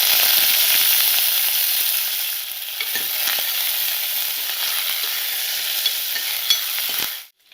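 Curry leaves hit hot oil already holding mustard seeds, cumin, a dried red chili and chopped garlic, setting off a loud, steady frying sizzle that eases slightly, crackles with small pops, then cuts off abruptly.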